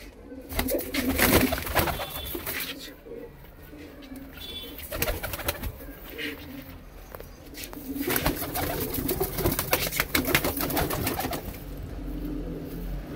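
A white female Punjabi pigeon with pale yellow eyes coos in soft, repeated low murmurs, nearby and fairly steady, with rustling and faint background noise around it.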